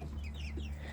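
A buff laced Polish rooster clucks softly and quietly, a low continuous murmur of short clucks with no talking.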